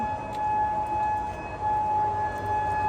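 An air raid siren sounding a warning of incoming bombs, heard from the fourth floor of a medical center building, holds a loud, steady tone alone with a constant background rumble and no talking.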